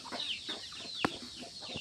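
A Peru cross-breed hen clucks in short repeated bursts at moderate distance, with one sharper call in the middle; fairly quiet overall.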